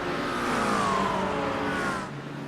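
A GT3 race car in a racing video game accelerates hard at Okayama, engine note climbing steadily through a gear as a sustained, loud whine, then dropping at a shift near the end.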